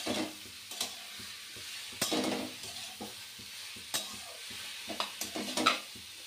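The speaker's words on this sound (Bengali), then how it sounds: "এবার আমি এতে সামান্য আদা বাটা, সামান্য জিরে গুঁড়ো, সামান্য হলুদ গুঁড়ো দিয়ে ভালো করে নাড়তে থাকবো।" Ginger paste, cumin powder and turmeric stirred in a sizzling pan for bottle gourd ghonto, with repeated scraping strokes of a spoon over a quiet, steady fry.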